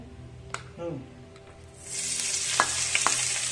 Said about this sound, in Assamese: ইয়াতে দি দিছোঁ পিঁয়াজৰ নলাখিনি ফ্ৰাই কৰিম ইয়াত এতিয়া